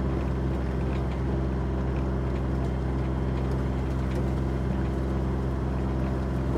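A vehicle drives across ranch land, some of it burned in a controlled burn. A constant low engine drone and road rumble carry on steadily close up, with no talk.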